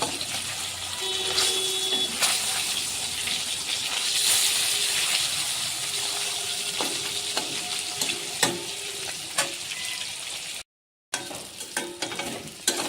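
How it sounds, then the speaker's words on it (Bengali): Rohu fish pieces fry in hot oil with a steady, crackling sizzle and occasional spatters, continuous and close, broken by a brief silent gap near the end. "এই মাছগুলো ভেজে নিচ্ছি।"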